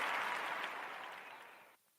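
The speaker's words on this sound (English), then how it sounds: "I appreciate the applause." Brief applause at a boxing awards show fades quickly over about two seconds and then cuts off, faint and somewhat distant.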